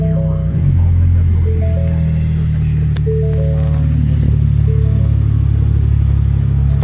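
A Ford Raptor truck engine starts and settles into a steady, loud idle with dual exhaust, then revs in several short bursts that rise and fall over a constant low rumble, heard close with no talk.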